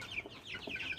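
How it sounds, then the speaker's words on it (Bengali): Farm chicken chicks kept for sale alongside tiger chickens, giving a few faint, high cheeps and soft clucks, brief and quiet over low background noise. "টাইগার এবং ফার্মি মুরগির বাচ্চা"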